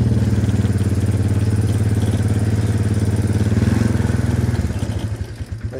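A farm bike with a centrifugal clutch runs steadily close by, its engine chugging loud and even before the note breaks into a rougher, uneven putter near the end.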